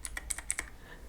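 Quick bursts of computer keyboard typing, about eight close keystrokes with brief clicks in the first two-thirds, then a quiet pause.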